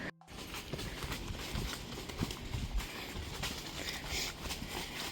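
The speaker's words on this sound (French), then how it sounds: "J'ai des grands chevaux là, je vous jure" Large horses walk on an outdoor ride, their hooves clip-clopping in an uneven, close rhythm for several seconds, with no voices over them.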